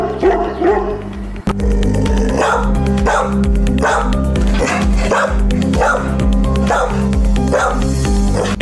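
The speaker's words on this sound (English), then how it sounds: "Powerful and loudest bark? Let's hear it first and we'll decide accordingly." A Tibetan Mastiff and a Pit Bull bark loudly and close, a rapid run of deep, forceful woofs in a steady rhythm, with some yips and whimpers woven in over background music.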